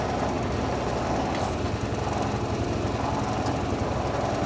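A hydraulic test machine drones continuously at high load while pressure-testing an ATE T50-26 brake booster, a loud, steady mechanical hum with no speech.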